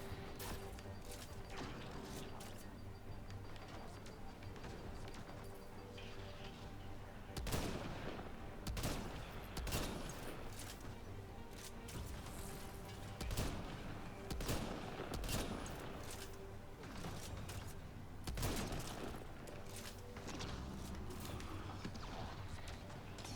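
Sniper rifle fire in Mass Effect Andromeda combat: sharp gunshots crack out every few seconds over a dense bed of game music and battle noise, with scattered smaller impacts between the louder reports.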